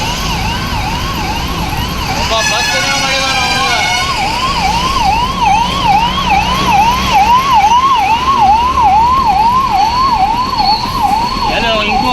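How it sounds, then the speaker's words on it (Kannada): An ambulance siren wails in a continuous, repeating rising-and-falling pattern while stuck in a traffic jam. It stays loud and close throughout, over a steady bed of road and engine noise. "ಚಿಕಿತ್ಸೆಗೆ ತೆರಳುತ್ತಿದ್ದಂತಹ ಆಂಬ್ಯುಲೆನ್ಸ್ ಟ್ರಾಫಿಕ್ ಜಾಮ್ನಿಂದ ಬರೋಬ್ಬರಿ 20 ನಿಮಿಷಕ್ಕೂ ಹೆಚ್ಚು ಕಾಲ ಟ್ರಾಫಿಕ್ನಿಂದ ತಪ್ಪಿಸಿಕೊಳ್ಳಲು ಪರದಾಡುವಂಥ ಪರಿಸ್ಥಿತಿ ಎದುರಾಗಿತ್ತು."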